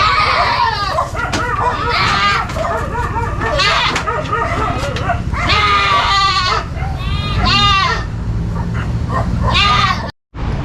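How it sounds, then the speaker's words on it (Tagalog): Goats bleating repeatedly and loudly close by in a rural yard, wavering cries overlapping in bursts, with dogs barking now and then and people talking in the background. "Andito na yung kambing natin."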